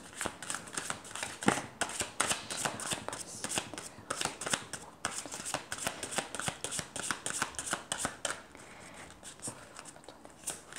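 Oracle cards are shuffled by hand for a reading, a close, continuous run of crisp papery riffles and taps in an uneven rhythm.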